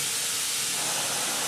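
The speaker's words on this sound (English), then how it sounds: "high quality dry steam," The steam arm of a La Spaziale S1 Vivaldi espresso machine blows dry steam in a loud, steady, close hiss that is bright and broadband throughout.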